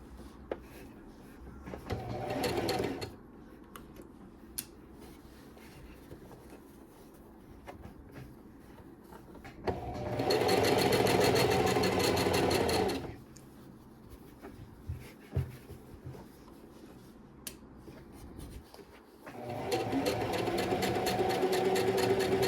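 Short bursts from a sewing machine stitching around the neck of a kimono, three separate runs of steady whirring broken by quiet pauses with small handling clicks and rustles in between.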